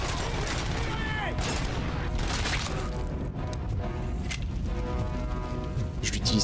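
Sustained automatic gunfire in the shooter RoboCop: Rogue City, a dense stream of rapid shots with metallic impacts running throughout.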